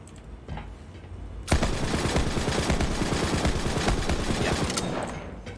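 Sustained rapid gunfire from the video game Borderlands 3 with a Moze build, a loud, dense, continuous barrage that breaks in suddenly after a quieter start and fades slightly toward the end.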